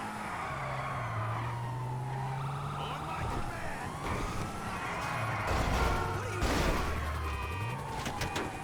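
Police sirens wail and sweep in rising and falling tones during a car chase in GTA 5, with engine roar and tyre skids, while someone talks over the action.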